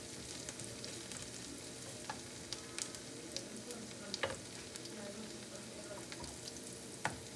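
Mung dal fries in a pan with a steady low sizzle and occasional stirring clicks and scrapes, quiet and close with no talking.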